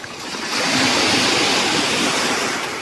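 Sea waves washing onto a beach after a typhoon, a loud, close, continuous rush of surf with no voices.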